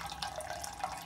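Tap water runs steadily through a carbon filter and tube into a brewing boil kettle, a continuous close hiss of flowing, splashing water filling the vessel while heating strike water for an all-grain Munich Helles.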